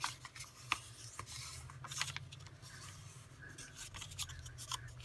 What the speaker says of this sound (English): And I'll fold it in half.